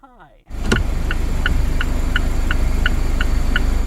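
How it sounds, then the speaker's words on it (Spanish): A Mazda MX-5 Miata turn signal set to high volume clicks steadily, about two and a half ticks per second, crisp and clear over the idling engine. A short, muffled stretch and a sharp knock come just before the clicking begins. "En este coche puedes cambiar el volumen del intermitente."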